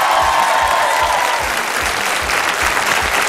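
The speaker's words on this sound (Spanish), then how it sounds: "un aplauso fuerte para todos" A television talk show studio audience breaks into loud, sustained clapping, dense and close, keeping an even rhythm for the whole stretch, with no voices rising above it.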